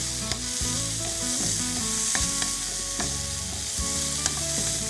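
Carrot pieces and thinly sliced, half-boiled beetroot fry and get stirred in a pan, with a steady close sizzle punctuated by repeated scraping stirs and clinks throughout, no talk.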